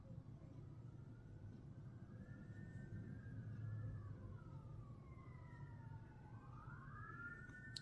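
Distant fire engine sirens wail outside, rising and falling tones overlapping as more than one vehicle passes, heard faintly over a low background rumble.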